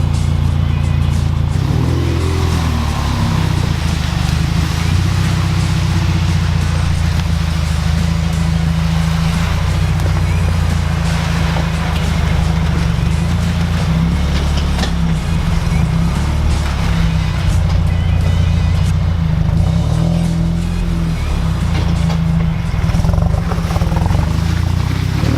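Steady low exhaust rumble from a 2019 Subaru WRX with an AWE Track Edition cat-back exhaust idling nearby, a deep, even drone with no revving.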